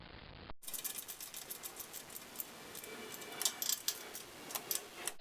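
Metallic clicking and ratcheting as a bolt is tightened down on freshly coated threads, a quick series of sharp ticks and small clinks close by, with no talk.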